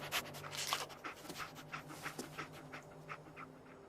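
Dogmeat, the German Shepherd companion in the video game Fallout 4, pants in short rhythmic breaths over a low steady hum, fairly faint, with no talk.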